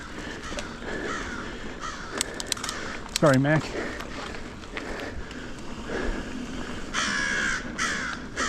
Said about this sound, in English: And the crows are out for me.